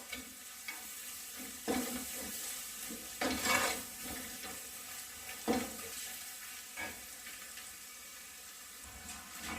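Fish molee ingredients, Kerala style, stirred in a pan: a scraping, swishing spoon comes in repeated strokes over a low steady sizzle, fairly close and not loud, with no talking.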